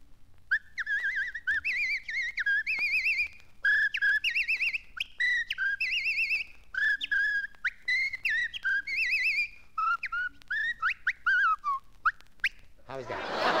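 A man whistles a lively, wavering tune alone, in quick, bouncy phrases with short breaks between notes, close and clear, ending with a brief burst of noise.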